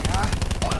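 Rapid automatic gunfire from the GKS rifle in Black Ops 4 rattles out in a tight, continuous burst of loud, close shots under gamer chatter.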